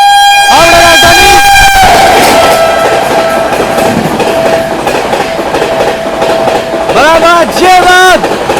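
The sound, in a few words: 12306 New Delhi Howrah Rajdhani Express train overtaking, horn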